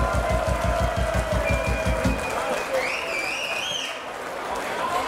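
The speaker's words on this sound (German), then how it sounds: "Macht aber einen riesen Applaus hören für unseren Festwirt!" A crowd at the Wolfhagen cattle market fair, a Frühschoppen event, bursts into rhythmic, steady clapping for the festival host, which fades after about two seconds into crowd murmur and a whistling tone.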